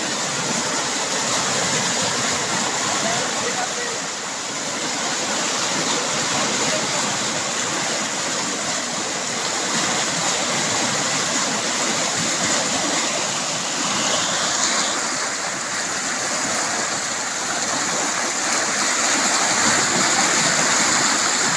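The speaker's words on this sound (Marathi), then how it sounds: "नदीतून पडत नाही म्हणले तर दाडदाड जायला लागलं पाणी" Rain-fed floodwater rushes down a swollen stream in Osmanabad, a steady, loud broadband roar of churning water that holds constant throughout, with faint voices now and then underneath.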